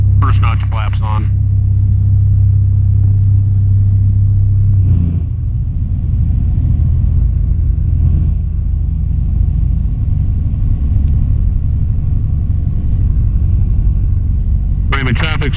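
A Sonex light aircraft engine drops from a steady loud drone to a lower throttled-back rumble in flight, staying loud and continuous in the cockpit with brief bursts of radio-like noise at the start and end.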